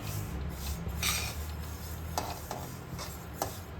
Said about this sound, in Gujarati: હવે ધીમી આંચ ઉપર આપણે તલ શેકી લઈશું